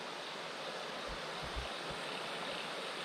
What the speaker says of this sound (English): And as you can see, plenty of water running.